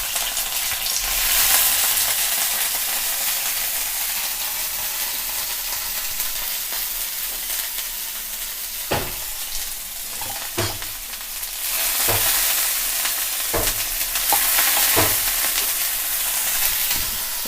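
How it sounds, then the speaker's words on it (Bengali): Capsicums lightly fried in hot oil in a wok for chili chicken: a loud, steady broadband sizzle, punctuated in the second half by sharp, regular scrapes and knocks of a spatula stirring. "এখানে আমরা এই ক্যাপসিকামগুলো আমরা তেলের মধ্যে দিয়ে হালকা করে সতেজ করে ভেজে নেব।"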